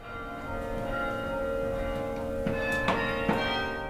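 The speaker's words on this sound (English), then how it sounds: "A keyboard instrument at the top of the tower is attached to clappers which strike the bells" The Singing Tower carillon rings: bronze bells struck by clappers worked from a keyboard at the top of the tower. Sustained ringing tones are overlaid by several fresh strikes near the end.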